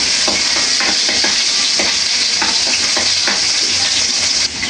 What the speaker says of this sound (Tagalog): si tito ninyo po ay nagigisa na po ng bawang at saka sibuyas